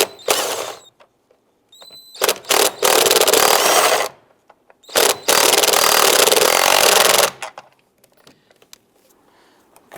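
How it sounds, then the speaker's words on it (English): Wrench and socket snugging down a bolt during A/C condenser replacement on a 2002-2008 Dodge Ram; loud, close bursts of mechanical rasping separated by short pauses, with no talk. "grab your wrench and your socket here and snug that down"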